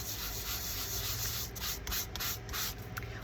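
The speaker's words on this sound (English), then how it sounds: "my sponge is dirty, I don't know if it's rubbing that ink back in" A dirty sponge scrubs ink over magazine pages in steady, close rubbing strokes, a continuous papery scuffing with slight rhythmic swells and no voices.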